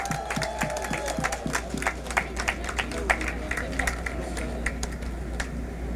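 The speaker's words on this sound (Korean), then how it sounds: "우리 진심 댄스 팀에게 여러분 힘찬 박수 한번 부탁드립니다" Audience applause for a dance team at a campaign rally in Ansan, a scattered, fairly soft patter of clapping under a steady low hum, with a voice speaking over it.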